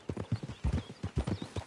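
Horse hooves clip-clop at a steady walking pace in Red Dead Redemption 2, a close, regular run of soft thuds with no voices.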